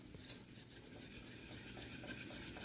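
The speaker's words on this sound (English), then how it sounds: "and I'm going to whisk." Flour being whisked into clarified butter in a pot to make a roux for velouté: a steady, close scraping and swishing churn that runs unbroken throughout, with no talking.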